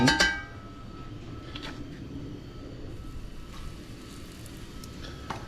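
Chicken sizzles skin side down in ghee over low heat, a soft steady crackle and hiss with a louder clatter at the start and occasional pops.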